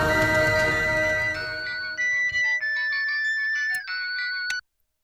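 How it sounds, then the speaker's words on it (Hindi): A phone ringtone plays a bright, repeating electronic melody, loud and close, with tones stepping through a tune for about four and a half seconds before cutting off abruptly into silence. "गीसू का फोन है।"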